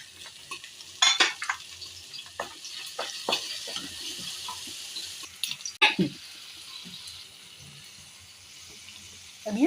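Green chillies and onion frying in a pan give a soft, continuous sizzle punctuated by sharp spatter pops and irregular stirring scrapes, close and fairly quiet, with no talking.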